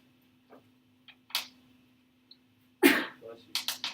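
A sharp sneeze bursts out in a quiet classroom, followed by a few short, faint noises against a low steady hum.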